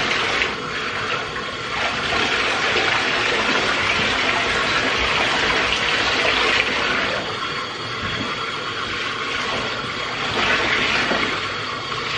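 Clean water runs and splashes steadily while rinsing something, a continuous broadband rushing that swells and eases slightly over about twelve seconds, with no talking.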